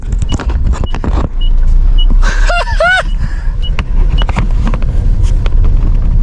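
An old rescued truck pulling away in first gear, with loud engine rumble and rattling under wind buffeting, plus a brief squealing whine partway through.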